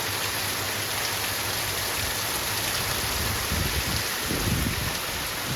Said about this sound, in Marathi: बघा किती पाऊस पडतोय, खूप जास्त